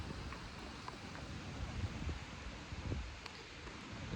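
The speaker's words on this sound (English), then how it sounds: "It's blowing an absolute gale" Strong gale wind buffets the microphone in bad weather on a hunting trip, a steady broadband roar with gusty surges throughout and no voices.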